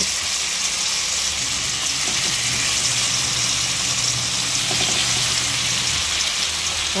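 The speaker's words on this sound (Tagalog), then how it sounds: "Prito muna po natin itong tokwa natin." Steady crackling sizzle of tofu frying in hot oil, constant and close, with a low hum underneath and no talking.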